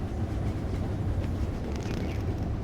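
A fast-moving train runs on rails, giving a steady, dense rumble that stays even throughout the short stretch with no voices.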